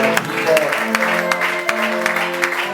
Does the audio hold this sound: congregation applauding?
yes